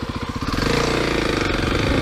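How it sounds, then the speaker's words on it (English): A Kawasaki KLX300 fuel-injected four-stroke trail motorcycle engine runs close by, with a steady pulsing idle that rises into a louder, continuous rumble. "Also being fuel injected, starts up every time. No worries, modern 4-stroke engine."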